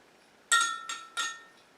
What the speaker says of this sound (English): You're just going to stir it just a little at a time. You want to get it all incorporated in there.